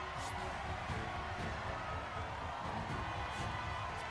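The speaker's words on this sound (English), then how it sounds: "A round of applause for our masked victor" Arena crowd in the video game Triangle Strategy applauding a masked victor, a dense steady wash of clapping and cheering that fills the whole clip at even loudness, with no voices over it.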